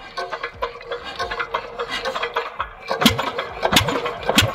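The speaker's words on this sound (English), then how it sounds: "here you can see that the engine has been started now" A crane engine starts up and runs beside an old well, about 200 years old, with a rough, rasping mechanical churn and sharp clanking bursts that grow louder toward the end.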